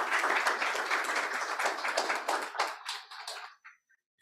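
Audience applause at a youth panel dialogue event, a dense steady wash of many hands clapping that thins out and trails off into a few scattered last claps.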